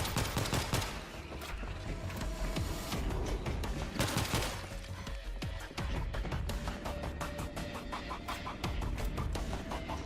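Rapid weapon fire from the World War Z zombie shooter game rattles almost nonstop, dense volleys of close, loud shots overlapping across the whole stretch with only brief dips.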